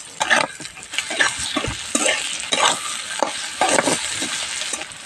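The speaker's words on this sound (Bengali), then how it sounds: "ওদিকে মশলাটা আমার ভাজা হচ্ছে" Masala with cashews and chopped tomato fries in a pan for butter paneer, a steady close sizzle broken by repeated scraping stirs that swell and fade in rhythm, with no talking.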